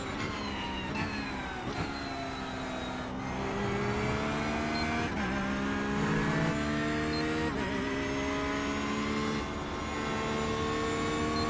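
An LMP2 prototype race car roars past on the track at a race weekend, a loud sustained engine drone rising and shifting in pitch against steady broadband track noise, heard alone without talk.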